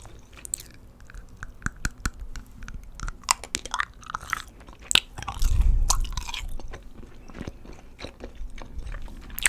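Chewy white apple-flavoured gum is chewed close to the mic, giving moist sticky smacks and squelches in an uneven steady rhythm with no talking.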